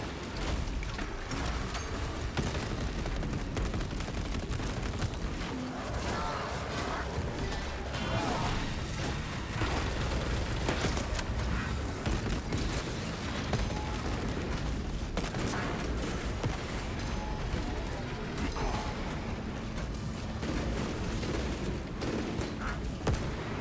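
Dense, continuous battle din from Space Marine 2, with repeated grenade explosions, crashes and heavy gunfire packed together at a steady, loud level across the whole stretch.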